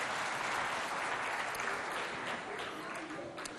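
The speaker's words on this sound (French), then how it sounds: "Applaudissez bien fort pour vous." A crowd applauds loudly at a children's school show in Moundou, a thick, continuous roar of clapping that stays strong and tapers slightly near the end, with no clear speech over it.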